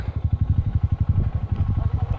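A motorcycle engine chugs steadily in a rhythmic, pulsing idle on a remote upland trail in Samar, loud and fairly close with no talk over it.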